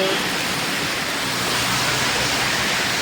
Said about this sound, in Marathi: भरपूर जोरात पाऊस आला आहे